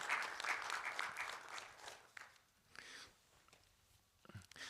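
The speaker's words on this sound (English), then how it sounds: "let's have a big applause to our panelists" Audience applause for panelists at a food security conference session, a burst of clapping that fades to scattered claps and brief murmurs, moderately distant in a hall.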